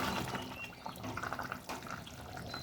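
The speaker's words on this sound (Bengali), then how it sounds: "দেখো ঝোল পুরো ফুটে গেছে।" Curry broth for murighonto with potatoes bubbles away in a pot, a soft, steady watery burble with small liquid pops, faint and fairly close, no voices.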